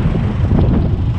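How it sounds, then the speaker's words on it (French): Strong wind gusts outdoors on a farm during faba bean sowing, near plane trees. The wind buffets the microphone with a loud, continuous low rumble that runs steadily through the whole short moment, with no talking. "Voilà, il y a du vent en pagaille,"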